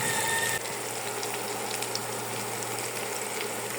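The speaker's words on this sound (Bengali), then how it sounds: "তেজপাতা একটা দিয়ে ভালো মতন পেঁয়াজটা একটু ভেজে নেব।" Onions fry in oil with cardamom, cinnamon and a bay leaf for chicken biryani, giving a continuous low sizzle and hiss with faint scattered crackles, no voices over it.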